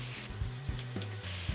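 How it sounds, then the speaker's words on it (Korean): Meat and vegetables stir-fry in butter in a pan for a Korean army stew, giving a faint, steady sizzle with a few soft scraping stirs. "버터 향이 올려서 고기만 살짝 볶아지고 야채하고 섞어주세요"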